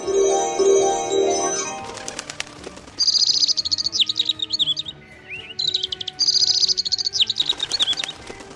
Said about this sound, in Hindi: अरे बदतमीज चिड़िया, तू मुझ पर हमला करने की कोशिश कर रही है।